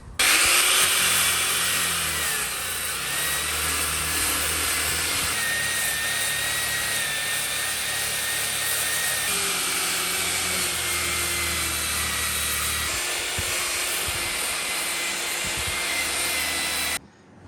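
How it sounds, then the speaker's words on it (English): A power sander works skim coat body filler on a wrecked Mercedes W140 S500, giving a loud, continuous high whine and hiss with a low motor drone that runs unbroken for about seventeen seconds before cutting off abruptly. "I went ahead and sanded down this whole section"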